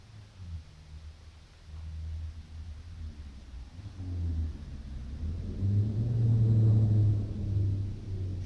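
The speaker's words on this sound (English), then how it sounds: "You guys probably heard that engine" A vehicle engine passes nearby, a low rumble that swells from quiet to a loud peak and then eases slightly, heard alone against steady background noise.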